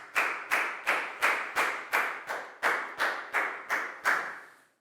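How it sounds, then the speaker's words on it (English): Schoolchildren in an English lesson clap for a classmate in a slow, unison rhythm of about eleven sharp claps, evenly spaced and close, with nothing else heard. "a big round of applause for Dan, please, guys"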